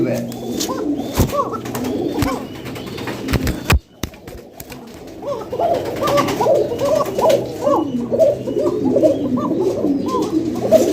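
Fancy pigeons, a pair of cocks and hens kept together, coo steadily and close by in repeated rolling calls, with several birds overlapping and a faint voice or two in the background.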